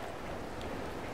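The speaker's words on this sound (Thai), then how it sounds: "โอ้ฝนตกตอนนี้" Rain in the video game No Man's Sky, a brief, constant wash of falling drops that sounds close and fairly full, with no talk over it.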